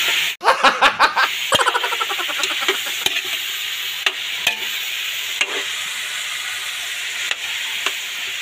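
Potatoes and carrots sizzle steadily in a hot frying pan while utensils clatter and scrape in a series of sharp knocks, with brief laughter early on.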